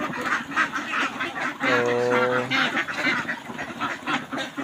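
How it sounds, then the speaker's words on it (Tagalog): Pet ducks quack loudly and repeatedly at noon feeding time, a clear harmonic quack standing out amid a busy flock with rustling and scattered calls, while someone speaks briefly at the start. "kain muna tayo ng ating mga alagang itik sa tanghali"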